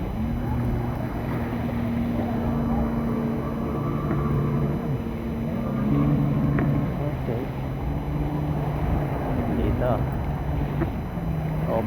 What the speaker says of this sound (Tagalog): Ayan yung jet ski o.